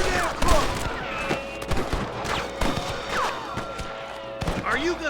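Western gunfight in Red Dead Redemption, with a rapid spread of gunshots cracking out near and far in irregular bursts, mixed with shouting voices and clattering impacts.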